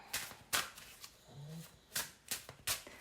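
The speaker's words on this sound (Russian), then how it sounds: "Тасуем колоду, задумайте себя, представьте себя со стороны." A deck of cards shuffled during a fortune-telling reading: several quick, crisp riffling bursts close up, separated by short pauses.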